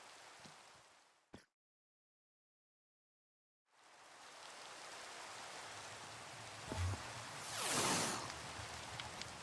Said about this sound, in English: at least the rain stopped